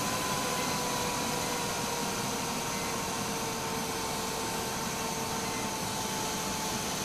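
A computer cooling fan turned down low on a fan controller, a steady close whooshing hum with a faint constant whine, unbroken and even for the whole stretch, with no voices.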